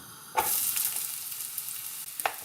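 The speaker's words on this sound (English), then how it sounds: "we'll fry off some onions" Chopped onions hit hot oil in a pan with a loud sizzle, then settle into a steady frying hiss with a few stirring scrapes, close and alone.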